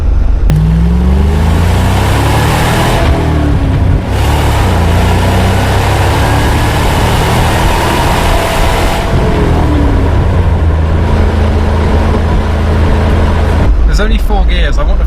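An old Range Rover engine drones steadily while driving at around 35 mph in a four-speed gearbox, a continuous loud low rumble with road noise throughout, and people talk over it.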